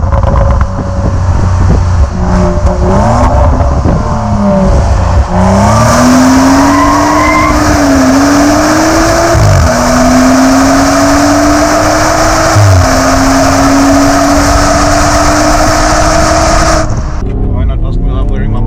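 An old BMW driven hard on a racetrack, its engine revving loud and steady with rising pitch through gear changes, tires squealing at times, while people talk over it.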